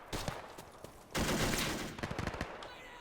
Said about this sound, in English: Oh, that machine gun is tearing them up here. It's so cool to hear it from a distance.